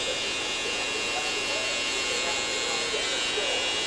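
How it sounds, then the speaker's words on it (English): Electric hair clippers buzzing steadily and close while the corners of the blade trim a beard and mid fade, a continuous high electric drone with no pauses. "You want to make sure you're using the corners of your clippers or your blade"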